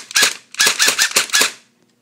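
An airsoft H&K MP7 fires in semi-automatic, giving five sharp, close pops in quick uneven succession, each a muffled crack with a short tail, followed by a brief quiet.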